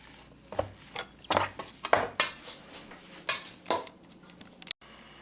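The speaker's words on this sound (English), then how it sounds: "We're browning our meatballs first." Meatballs made without breadcrumbs browning in a pan, heard as a faint sizzle under repeated clinks and scrapes of a utensil moving them against the pan, uneven and close.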